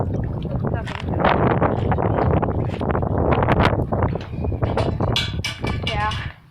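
Gusty wind blowing outdoors ahead of a storm, a steady broadband rush that runs through the whole stretch while a person talks over it close to the microphone.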